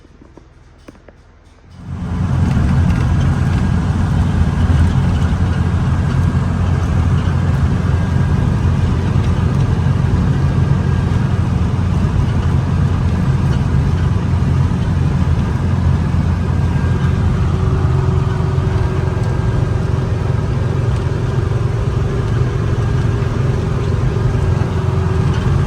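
A 1979 Trans Am engine fires up after a short silence, then runs steadily through a short cruise, a loud continuous rumbling engine drone with a slight pitch change later on, no voices.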